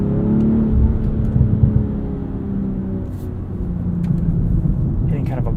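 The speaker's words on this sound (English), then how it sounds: "You can hear some subtle burbles and pops from the exhaust off throttle." A 2023 BMW M340i xDrive heard from inside while driving, with a steady loud engine and road drone and faint exhaust burbles and pops off throttle, under someone speaking.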